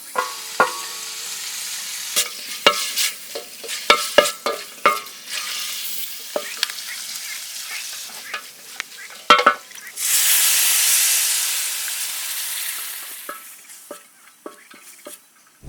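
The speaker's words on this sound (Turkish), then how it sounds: "Etimin kızarmasını bekliyorum." Fatty beef rib meat for tantuni fries in a pan, with crisp clacks and scrapes of a utensil stirring close up, then a loud rush of sizzling steam in the middle before the stirring resumes.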